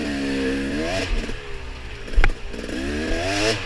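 Enduro dirt bike engines idle and rev at a staggered race start, a loud nasal two-stroke-like buzz climbing in pitch, dropping, then climbing again, with a sharp thump midway.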